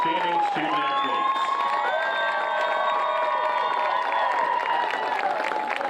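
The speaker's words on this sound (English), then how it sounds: "let's once again give a round of applause for all of these outstanding student athletes" Stadium crowd at the 2022 NCAA Division II Softball Championship final cheers and applauds the student athletes, a continuous roar of clapping, whoops and shouting voices carrying across the field.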